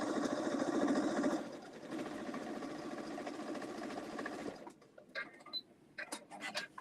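A sewing machine stitches a seam with a steady, close mechanical whirr for about four and a half seconds, then stops, leaving quiet handling clicks and rustles.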